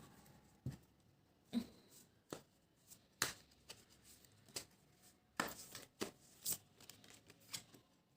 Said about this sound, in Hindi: मेन कार्ड्स को पीछे या साइड में रख देती हूँ सो दैट हम बाकी के कार्ड्स शफल कर पाए।